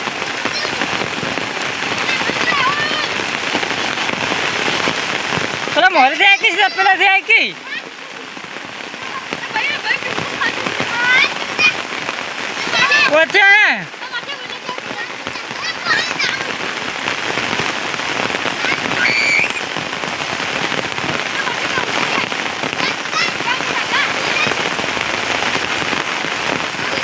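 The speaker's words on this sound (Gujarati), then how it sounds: "અમારા ગામમાં વરસાદ જેવો પડ્યો છે આજ પહેલી વખત આટલો વરસાદ પડ્યો છે" Heavy monsoon rain pours steadily onto a village street in Gujarat, a dense continuous wash heard close. Children's voices and talk rise briefly over it twice.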